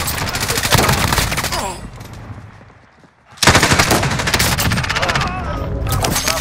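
Rapid automatic gunfire from a shooter video game rattles in loud bursts, pausing briefly before resuming, with excited players' voices mixed in.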